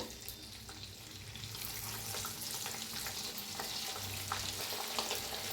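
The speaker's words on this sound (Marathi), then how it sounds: "आता दुसरं बी तळून घेऊया" Cabbage vadas deep-frying in hot oil give a steady, close crackling sizzle with scattered pops and bubbling throughout, and no voices over it.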